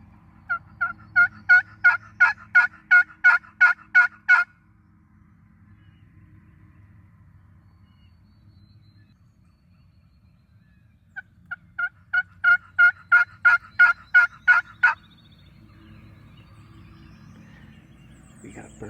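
A wild turkey gobbles during a Tennessee spring turkey hunt, two loud bursts of rapid, rhythmic gobbling calls separated by a quiet stretch, ringing out clearly over faint outdoor background.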